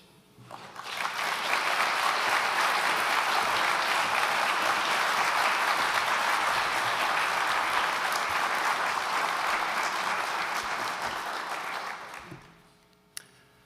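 A debate audience gives sustained, steady applause in a hall for about eleven seconds, building quickly, holding even and full, then fading out near the end.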